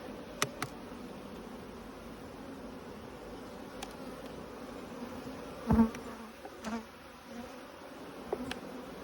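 Steady droning hum of many agitated honey bees buzzing close by at an open hive, with a few individual bees zipping past louder near the mic.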